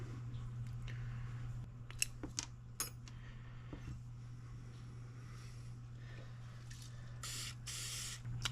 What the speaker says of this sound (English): clean it up real good at the parts washer.